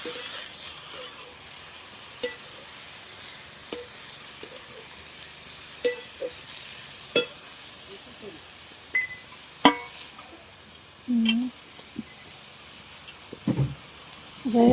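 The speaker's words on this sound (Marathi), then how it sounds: "आता इथं मस्तपैकी अशी कोबीची भाजी फोडणी दिली." Shredded cabbage in a phodni tempering: a low steady sizzle broken by sharp clinks and scrapes of a spoon stirring in the pan at irregular intervals, with a brief voice partway through.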